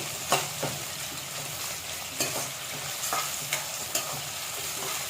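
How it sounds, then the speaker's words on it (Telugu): Green chillies and onions stirred in a hot frying pan for a chicken curry with dried coconut and poppy seeds, broadband sizzle with repeated scraping strokes of a spoon, steady and close, no talking. "ఉల్లిగడ్డ కలుపుకుందాం ఇప్పుడు వీటిని"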